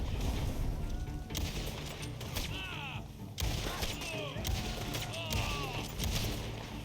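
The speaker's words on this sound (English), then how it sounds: "Did you just shoot me?" Gunfire in a video game shootout with endless waves of enemies, repeated bursts and shots crackling loudly and continuously amid dense game effects and music.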